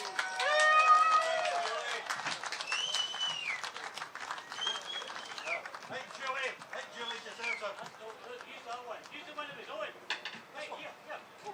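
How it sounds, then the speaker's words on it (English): A rally crowd at a Glasgow independence march bursts into applause that swells early and then continues in scattered, gradually thinning clapping, heard at a moderate distance with a voice speaking over it at first. "I think Julie deserves a big round of applause for sticking around all that time."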